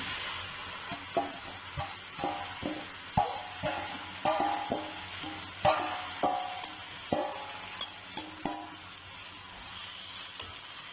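Fried vegetables being stirred into sizzling masala in a pan, with a spoon scraping and tapping the pan in a steady rhythm of about one stroke per second over a continuous close frying sizzle.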